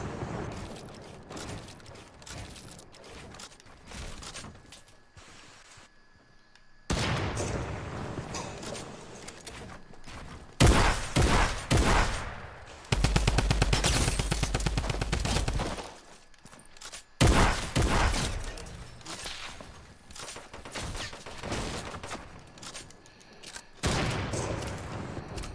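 Sustained bursts of in-game gunfire aimed at the players in Fortnite, loud and dense automatic fire with sharp repeated cracks, heaviest around the middle, with pauses between volleys.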